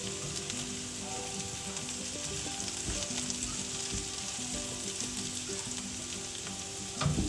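Potatoes for a scrambled hash fry in a pan with a steady, close sizzle that crackles continuously, with a few faint clatters and a slightly louder burst near the end, no voices.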